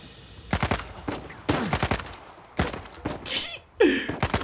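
Gunfire in the video game Uncharted 4, several sharp bursts of shots spaced a second or so apart, loud and close, with short gaps between them.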